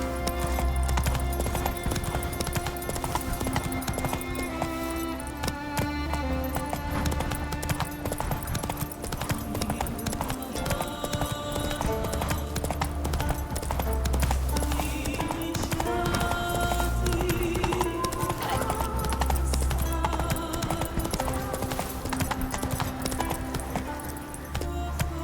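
A horse gallops in The Witcher 3, a steady rhythmic clip-clop of hooves that runs loud and close throughout, layered with game music and ambient effects.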